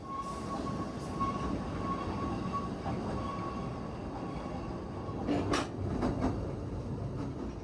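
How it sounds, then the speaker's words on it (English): A narrow gauge train on the Leighton Buzzard Light Railway runs through open countryside, a steady rumbling rolling sound with a faint whine, brief squeals and clanks near the end, moderately loud and without talk. "the railway chugs out into more open countryside"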